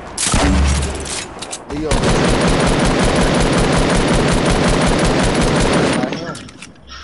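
Sustained rapid automatic gunfire in a video game, loud and close, a short burst followed by a long continuous barrage lasting several seconds, with a voice speaking briefly over it.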